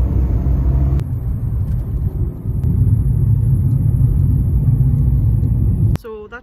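A family car drives along a bouncy road on the way to Amble, giving a loud, constant low rumble of engine and tyres from inside the cabin that cuts off abruptly near the end, followed by a short vocal sound.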